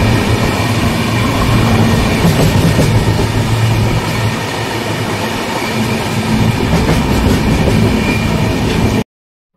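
A moving passenger train on a journey from Parvathipuram to Raipur rumbles steadily with a loud, continuous roar and rhythmic clickety-clack of wheels on track, with no voices, cutting off abruptly at the end.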